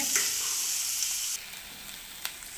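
Onions sizzling and frying steadily in a pan of hot oil while egg patties are being made, a constant close bright hiss that shifts slightly partway through, with a faint stir click near the end.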